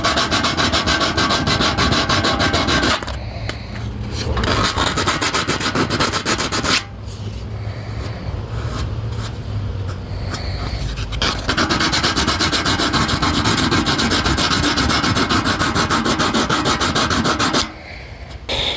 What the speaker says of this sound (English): Just take the 180 sandpaper and just kind of go like this with it. Just kind of rough the edges up with it.